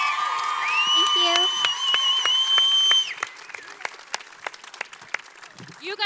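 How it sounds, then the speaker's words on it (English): A crowd at a television series finale event claps and cheers, with whoops and shouts over a lively voice for the first half before the applause thins into scattered claps. "Let's give them a big round of applause again."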